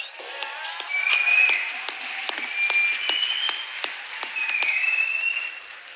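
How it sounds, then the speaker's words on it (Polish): Audience applause at a FAME MMA press conference as two fighters' entrance is greeted, a steady crowd of clapping hands rising and falling over six seconds with scattered sharp claps, moderately close. "Słuchajcie, wielkie brawa, jeszcze raz!"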